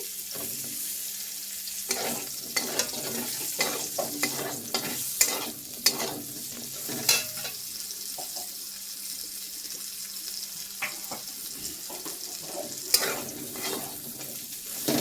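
Food frying in a pan while being stirred, with steady sizzle and a run of scraping stir strokes and small clinks throughout, alone with no talk.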